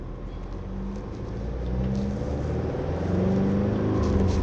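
A Mercedes Sprinter van engine revs up toward 4000 RPM, a steady low drone rising gradually in pitch and loudness, heard from inside or close by.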